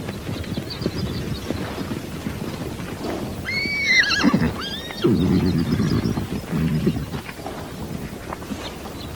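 Wild mustangs on arid semi-desert rangeland neigh in a loud, shrill whinny, with hoof clip-clop and rough snorting around it outdoors.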